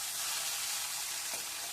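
Chopped tomato dropped into hot oil for a pointed gourd dhoka curry, giving a steady, fairly soft sizzle with a faint stir or scrape partway through, close by and without talk.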